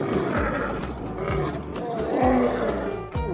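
A Lion King toy lion gives a loud, continuous electronic roar, rough and growling, with a few rhythmic thumps beneath it.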